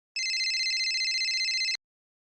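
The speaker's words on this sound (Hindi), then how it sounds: "फोन आ रहा है" A phone rings with an incoming call, a bright electronic ringtone trilling in a steady rapid pulse for about a second and a half before it cuts off abruptly, close and clear against silence.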